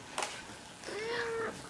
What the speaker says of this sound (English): Oh, Diddy Kitty